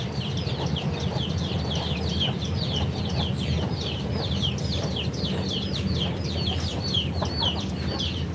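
Neighbors' chickens cluck and chatter steadily at close range, a dense, continuous flock murmur with repeated short calls layered over a constant low background hum, no voices present.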